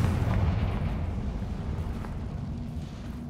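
A Confringo blasting spell in Hogwarts Legacy erupts as a heavy, rumbling explosion, loud and low from the start, then slowly fading into a sustained booming roar.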